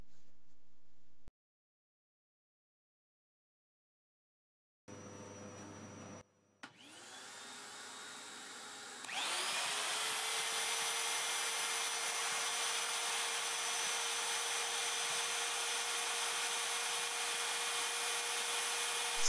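A ShapeOko 2 CNC router fitted with a dust shoe mills a wood iPhone skin. A loud, steady whine and roar of spindle and cutting builds after a brief silence and carries on unbroken.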